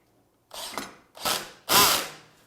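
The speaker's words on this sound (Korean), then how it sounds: "드릴로 박아주도록 하겠습니다." Power drill driving screws into IKEA furniture, three short whirring bursts that grow louder and longer, heard close with quiet gaps between them.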